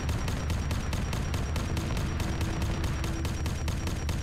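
A video game vehicle weapon empties its magazine in one continuous rapid burst, evenly spaced loud shots hammering without pause.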